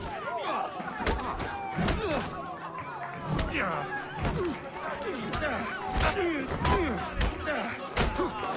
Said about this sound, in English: the sound effects of the punches went before I even attacked